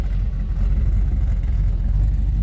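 A pickup truck engine rumbles steadily with a deep, throaty note through a 4-inch exhaust and single 4-inch muffler, idling and slightly revving throughout, loud and close with no talk.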